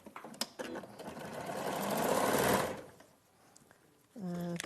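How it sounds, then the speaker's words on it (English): A sewing machine stitches pieces of denim together, running in a steady whirring burst that rises then fades, with a short further run at the end, close by, and a voice talking briefly around it. "you just sew those together to create your base"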